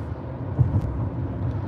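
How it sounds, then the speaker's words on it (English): Steady road noise inside a moving car on a paved country road, a continuous low rumble and roar with a couple of small bumps, no voices. "Sorry for the road noise"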